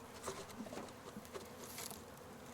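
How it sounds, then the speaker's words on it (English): A package of honey bees buzzes as a dense, steady hum of many insects, close and fairly quiet, with light fluttering and tapping mixed in and no voices. "We're going to shake this package of bees into the..."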